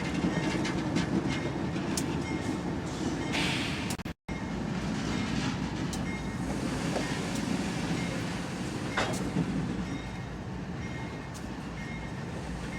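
A long CSX freight train, Q198 off the Georgia subdivision out of Atlanta, rolls past near Augusta, Georgia, with a steady loud rumble and rattling wheel clatter that carries on throughout.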